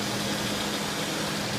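A 1989 420 SEL's engine idles steadily, a low continuous rumble with a faint hum and no voices.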